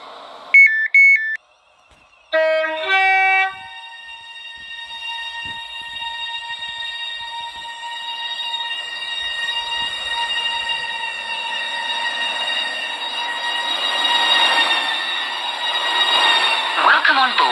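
An electric passenger train of five coaches stands at the Airport Terminal 1 platform: a few short beeps, then a steady layered whine that swells slightly toward the end, near and fairly loud.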